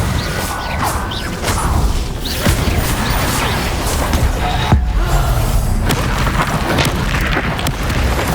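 Confringo fire spell explosions in Hogwarts Legacy, a dense stretch of booming impacts and crackling blasts during combat, loud and continuous with no talking.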